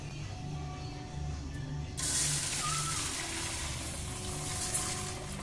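Water runs over soaked kalai lentils, a quiet hiss that swells into a broad rushing splash partway through and continues steadily.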